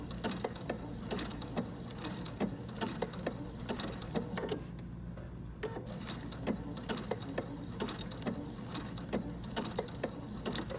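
A sewing machine stitching raw edge appliqué gives a steady mechanical whir with regular ticking clicks, pausing briefly midway before continuing, fairly quiet and close.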